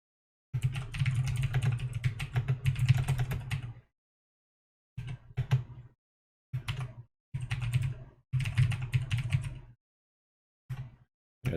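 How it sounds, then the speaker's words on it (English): A loud mechanical keyboard clatters with rapid, close keystrokes in bursts of typing separated by short pauses, one long run and then several shorter ones, with no voices. "There's like that loud mechanical keyboard."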